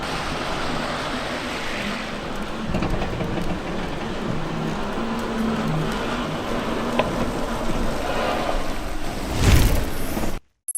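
A concept sports car pulls away from a design studio over a squeaky floor, a steady close rumble of motion lasting about ten seconds with a brief louder knock near the end before it cuts off.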